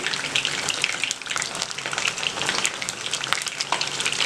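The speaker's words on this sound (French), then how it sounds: "c'est les aubergines qui sont en train de cuire" Eggplants fry in a pan, a continuous crackling sizzle with dense bright pops and spatters, moderately loud and without talk.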